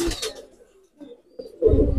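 A Chinese pigeon on a pigeon farm gives a few soft, low coos near the microphone, separated by short pauses, with faint rustling between calls.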